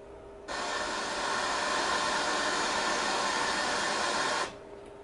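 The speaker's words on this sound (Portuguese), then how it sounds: "também possui um gerador de ruído, ruído branco" White noise from the noise generator of a Yamaha CS-5 synthesizer: a steady, bright, even hiss that starts abruptly, holds at constant loudness for about four seconds, then cuts off.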